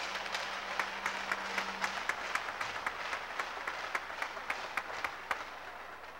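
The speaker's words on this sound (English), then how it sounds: "How about we give all 12 seniors one more round of applause?" A crowd at a high school senior night gives the seniors a sustained round of applause, with steady clapping and regular sharper claps, moderately distant and fairly soft.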